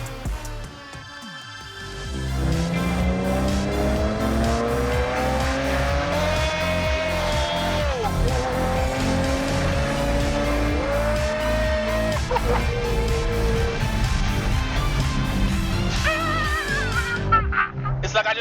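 A collector car driven hard, with a loud, steady engine roar and long sustained tire squeal sweeping in pitch, close and dominant throughout, with a brief quieter start.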